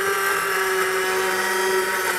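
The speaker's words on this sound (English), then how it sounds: "in comes the immersion blender" An immersion blender purees softened fava bean soup in a pot, a steady whirring motor drone with strong tonal harmonics that runs loud and unbroken throughout, with no talking over it.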